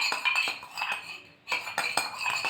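Ghee and Nivea are whisked in a bowl for a beetroot lip balm. A utensil strikes the bowl in quick, rhythmic metallic clinks with a brief pause midway.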